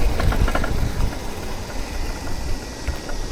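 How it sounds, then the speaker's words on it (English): A motorcycle engine idles nearby in a market passage, a low uneven rumble with faint knocking pulses, steady and moderately loud. "Ugh, that's a motorcycle. That shouldn't be on here."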